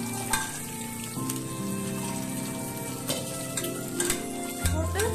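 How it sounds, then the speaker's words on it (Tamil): Upma rava roasting in hot oil for tamarind upma, stirred steadily in the pan: a continuous close sizzle with repeated scraping and clinking of the spoon, alone without talk. "இந்த எண்ணெயில லைட்டா இந்த உப்புமா கப்பியை நல்லா வறுத்துக்கோங்க."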